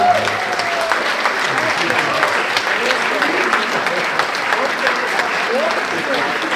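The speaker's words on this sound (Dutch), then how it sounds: "nogmaals een applaus voor de hele band" Sustained audience applause for a band at a Curaçao recognition ceremony honouring a percussionist, steady dense clapping filling the whole stretch at even loudness, with a few faint voices and cheers mixed in.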